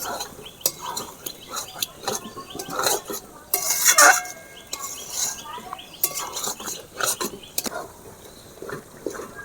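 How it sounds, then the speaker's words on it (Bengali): Kashmiri chicken masala spices frying in a pan, a spoon scraping and clinking against the metal in scattered strokes with a light sizzle, while a voice talks softly over it. "মশলাটা যত ভাজা হচ্ছে মশলাটা থেকে বেশ সুন্দর সেন্ট বেরোচ্ছে"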